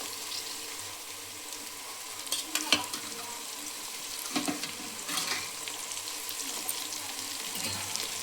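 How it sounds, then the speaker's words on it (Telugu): Potatoes and onions fry in a pan with a steady low sizzle and a few scraping stirs of a spoon, close and fairly quiet, with no voice. "వేసి ఇలా కలుపుకొని ఫ్రై చేసుకోవాలి."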